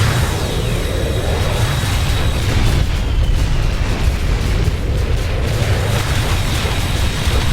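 Explosion of the Visigoth command ship in the space combat game Freespace 2, a loud, sustained roaring blast with dense rumbling low end that holds steady for several seconds.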